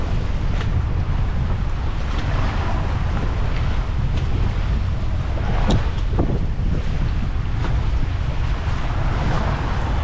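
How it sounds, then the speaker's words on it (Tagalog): Wind and waves at sea around a fishing boat, a steady loud broadband roar of wind buffeting and water surging that stays continuous throughout with no voices. "Pero parang naglalaro lang ang ating mga alon"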